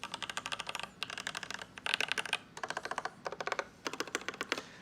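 Typing on a stock plastic mechanical keyboard fitted with Alpaca switches: quick bursts of close, crisp keystrokes in short runs separated by brief pauses.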